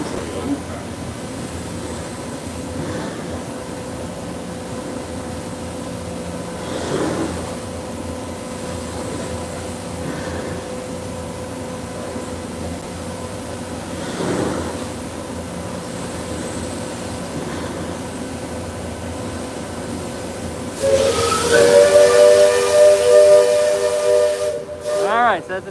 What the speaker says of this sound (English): Alright, so that's a train coming through.